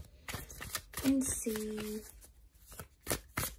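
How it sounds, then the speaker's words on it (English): Prisma tarot cards being shuffled by hand, with crisp papery riffles and flutters running in short bursts beneath someone speaking and a couple of brief tonal sounds. "So I'm going to be using my Prisma deck, and we'll give the cards a good shuffle"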